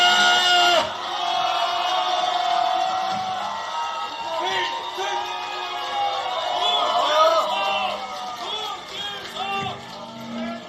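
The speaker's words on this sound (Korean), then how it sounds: "4월 10일 우리 다 함께 승리의 함성을 같이 외쳐봅시다." A rally crowd shouts and cheers in a loud, sustained roar, with overlapping whoops and voices swelling and dipping across the whole stretch.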